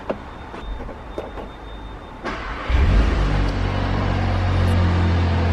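A 2021 CUPRA Ateca's engine starts up from inside the cabin, a brief crank around two seconds in, then a steady idle rumble carrying on to the end with no talk.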